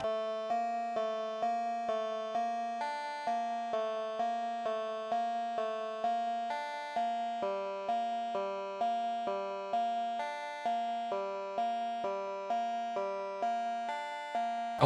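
Synth arpeggio plays a steady, rapid repeating pattern beneath bright 8-bit style chiptune stabs in a royalty-free electronic track, with an even pulsing rhythm throughout and no voices.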